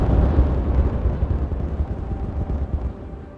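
Dynamite charges detonating in the beaver city-building game Timberborn, a dense, continuous crackling rumble of many rapid blasts that rolls on without pause and fades slightly toward the end.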